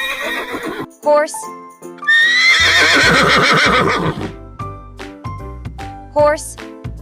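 A horse neighs in a loud, high whinny, then brief pauses, then a second whinny near the end. Bright music plays along with it, and a voice speaks between the calls.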